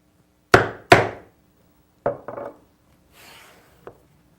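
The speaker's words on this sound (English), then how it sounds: "now that I've got a little bit of a shoulder, I can be a little more aggressive with the mallet" A wooden mallet drives a bevel edge chisel into wood, giving two loud knocks, then two lighter taps, a brief scrape and a final small tap, heard close and without talk.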